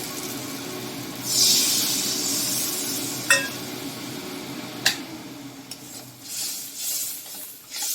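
Water hits a pan of frying mustard and poppy seed paste with pointed gourd, giving a brief loud hiss that fades, followed by a couple of sharp clinks of a utensil against the pan.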